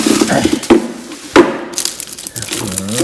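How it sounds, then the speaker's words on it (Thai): Plastic packaging being pulled off a newly unboxed BBQ and hotpot grill, with sharp crinkling and crackling bursts near the mic, two louder snaps standing out among softer rustles. "เอาพลาสติกออกก่อน"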